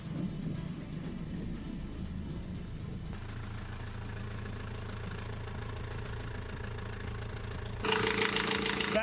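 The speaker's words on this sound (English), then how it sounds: "That's the sound of an engine running again" A boat engine idles steadily at a dock with a constant low hum, getting a bit louder and brighter near the end, with no voices.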